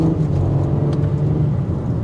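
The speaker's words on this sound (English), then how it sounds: "That's just your everyday drive exhaust." A 2023 BMW M4 Competition accelerates with a deep, loud exhaust rumble heard from up close, a steady low growl rising briefly without any voices.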